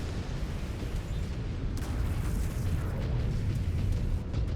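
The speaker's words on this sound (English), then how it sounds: "Ooh, that was a heavy hit." Heavy weapon impacts and rumbling explosions from a Mechwarrior 5 Clans battle, with Clantech ER PPC fire landing on a mech: a continuous dense low roar with boom bursts throughout, loud and close, no talking.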